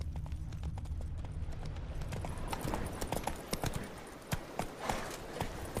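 Horse hooves clip-clopping at a steady walking rhythm in The Witcher 3 video game, the hoofbeats growing clearer and more distinct over a low ambient background, with no talking.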